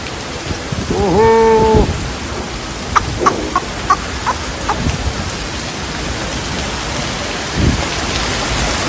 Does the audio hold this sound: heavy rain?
yes